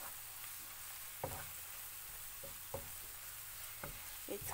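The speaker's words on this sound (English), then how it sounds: "Cook all the spices well on a medium flame." Spices frying on a medium flame in a pan, a soft steady sizzle with a few sharper clinks of stirring at intervals.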